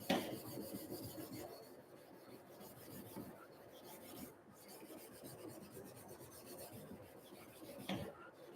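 A knife blade rasps across flat diamond sharpening stones in steady, faint back-and-forth strokes, with a few louder scrapes, heard close up and alone.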